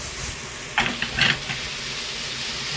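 Jjajang sauce stir-fried in a wok for homemade Handon pork jjajangmyeon, giving a steady low sizzle with a few brief louder bursts of frying and stirring partway through.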